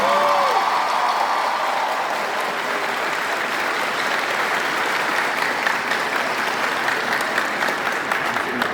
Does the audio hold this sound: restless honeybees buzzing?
no